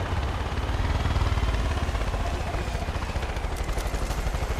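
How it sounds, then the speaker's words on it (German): A helicopter in the video game Far Cry 5 gives a steady, loud, continuous rotor and engine drone with a pulsing rumble, sounding close and unbroken for the whole span. "Warum ist noch ein Helikopter?"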